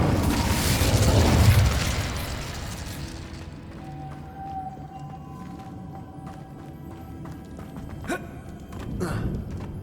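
An Incendio fire spell cast in Hogwarts Legacy on PS5, a loud burst of fiery whooshing roar that fades over about three seconds into quieter game ambience with a few later thuds.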